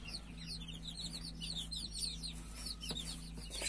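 Week-old Brahma and Splash Wyandotte chicks peep in a dense, continuous chorus of high overlapping calls, close and fairly loud over a low steady hum.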